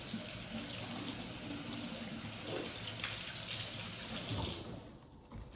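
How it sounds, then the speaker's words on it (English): Cold tap water runs steadily into a kitchen sink as an onion is rinsed, a continuous close splashing rush that cuts off near the end. "I'm going to run this under cold water really quickly"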